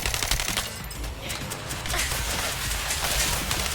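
Rapid gunfire at a boss in the video game The First Descendant, dense bursts of loud shots running continuously over game noise.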